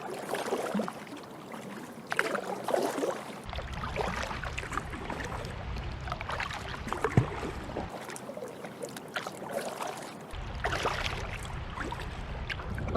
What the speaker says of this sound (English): Let's have a look, see what it's like capturing the paddling.